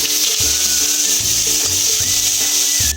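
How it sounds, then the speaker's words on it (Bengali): Whole cumin seeds and grated ginger hit hot oil for a tempering, giving a loud, steady close-up sizzle and crackle with light stirring scrapes, no voices. "তেল গরম হয়ে গেছে। ফোড়নে দিচ্ছি গোটা জিরে, গ্রেট করে রাখা আদা দিলাম"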